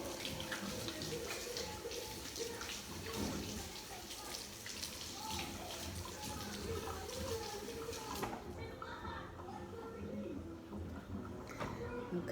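Hands being washed under a running kitchen tap while making sour cream biscuits, a faint steady splashing and trickling of water with bursts of rubbing, close but quiet, continuous throughout.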